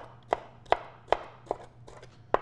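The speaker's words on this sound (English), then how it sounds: "I'm gonna slice these into about 1/4-inch slices" A knife slices bell peppers on a cutting board into quarter-inch strips with a rocking motion, giving six crisp, evenly spaced thuds about every 0.4 seconds, close and clear with no talk.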